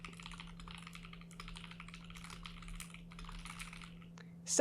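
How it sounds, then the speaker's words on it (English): Fast typing on a computer keyboard, a quick continuous patter of light key clicks in close bursts over a quiet background hum, ending with a louder knock. "that's the sound of me typing lyrics while they're going on"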